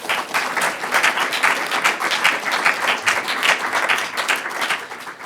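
An audience at a poetry reading welcomes poet Stephen Frech with sustained applause, a dense, even patter of many hands clapping that holds steady throughout.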